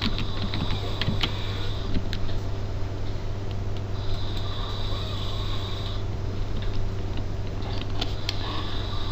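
Keys click on a computer keyboard in a quick, irregular stream over a steady low hum of electronics, close and fairly soft, with short pauses between bursts.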